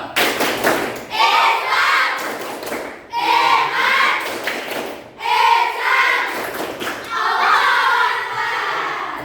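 A classroom of students performs the tepuk Gramatika clapping chant, loud rhythmic bursts of claps and chanting voices repeating in three sections with brief pauses between.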